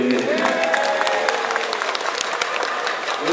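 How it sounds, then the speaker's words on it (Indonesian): Crowd applause at a rally in Ciamis with santri and local residents, loud dense clapping through the full stretch, with faint voices mixed in. "Tepuk tangan buat Ibu dan Ibu."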